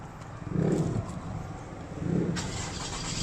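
Toyota Camry engine cranking over in two rhythmic starter bursts, close and moderately loud, before a brighter hiss sets in as it tries to catch.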